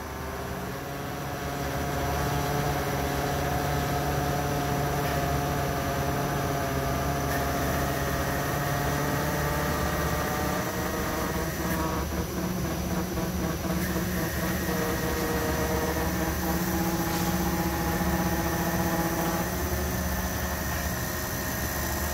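A transmission with a reverse manual valve body spins on a dyno during testing, making a continuous droning whir with steady tonal harmonics and mechanical vibration that holds for over twenty seconds, with no one talking.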